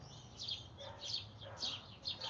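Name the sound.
bird calling, a mother bird feeding another bird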